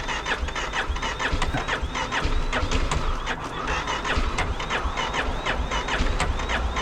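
A motorcycle with a dead battery cranks repeatedly without catching, giving a rapid whirring and clicking starter sound that comes in uneven pulses, close by.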